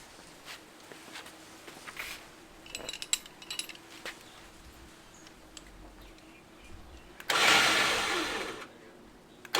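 Newly installed winch motor on a Jeep JKU whirs loudly for about two seconds near the end, after scattered clicks, clunks and handling noises in a quiet garage.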